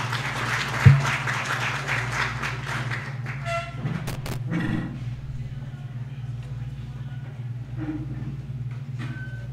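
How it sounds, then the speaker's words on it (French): An audience claps for the Chamber of Commerce and Industry of Haiti representative at a national private-sector forum, a dense patter for the first few seconds that fades over a steady electrical hum. "nous invitons le représentant de la Chambre de commerce et d'industrie d'Haïti pour son allocution sous contrôle de l'applaudissement, M. Jean-Nathan Letam."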